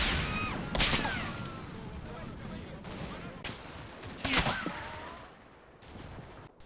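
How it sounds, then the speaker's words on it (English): Machine gun fire in the Combat Mission Red Thunder wargame, bursts crackling from the right flank near a riverside farmstead, with two sharper volleys standing out over a steady rumble of battle noise. "enfilading machine gun fire erupts from the right"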